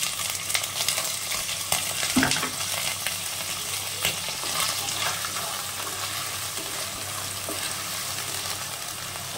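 Grated carrots stir-frying with lightly fried onions for oats pulao, a steady sizzle with scraping spatula strokes and a sharper clatter near the start, close and moderately loud with no talking.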